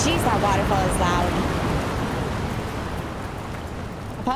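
A loud waterfall in the video game Dragon Age: The Veilguard roars as a steady, dense rush of falling water, close and constant throughout, with faint bits of game sound layered over it.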